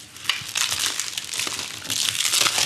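Plastic bag packaging around a Dyson Airwrap Complete crinkles and rustles continuously at close range, with uneven bursts of crackling and no talking.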